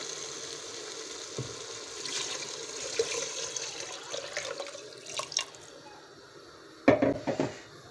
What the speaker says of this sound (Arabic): بعد ما تقلت زين راح نضيف المي